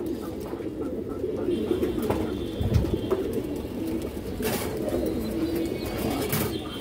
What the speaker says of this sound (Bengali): অনেক সুন্দর একটা কবুতর দর্শক